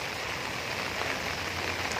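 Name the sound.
rain falling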